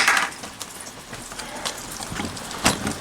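Rain falls outdoors onto dirt and a collecting container, a soft steady patter with scattered sharper drops close by and nobody talking.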